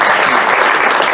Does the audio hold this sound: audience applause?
yes